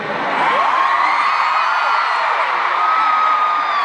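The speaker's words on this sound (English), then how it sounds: "Big scream in this big stadium." A huge stadium crowd at the Rose Bowl screams and whoops continuously, a loud sustained roar of many voices with rising shrieks before a concert.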